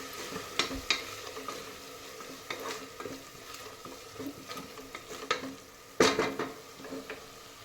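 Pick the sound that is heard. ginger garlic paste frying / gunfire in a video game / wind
ginger garlic paste frying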